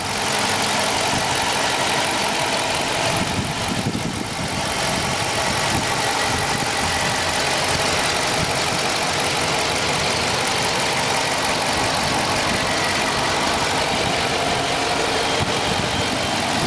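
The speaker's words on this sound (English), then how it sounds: "Let me be quiet here for a quick minute so you can hear the engine" A 2017 Dodge Charger PPV highway patrol car with a 5.7 HEMI V8 and AWD idles steadily and close by, a smooth, even engine hum with no ticking or knocking, heard alone for the full stretch.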